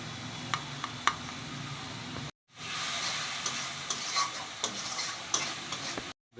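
Fried potatoes with turmeric and salt are stirred in a hot pan, giving a close, continuous sizzle with scraping strokes and light utensil taps, briefly cutting out midway, with nobody speaking.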